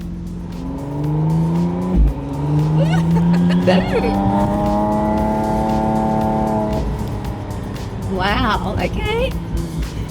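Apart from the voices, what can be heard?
McLaren Artura Spider driving at low speed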